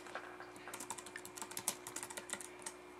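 Quick, light keystrokes on a computer keyboard tap in an uneven run, quiet and close, with no talking.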